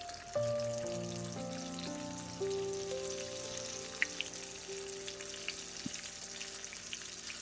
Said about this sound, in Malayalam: അങ്ങനെ നമുക്ക് ബാക്കിയുള്ള ചിക്കനും കൂടി ഇങ്ങനെ നമുക്ക് ഫ്രൈ ചെയ്തെടുക്കാം